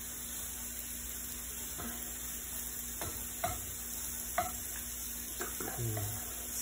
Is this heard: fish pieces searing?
yes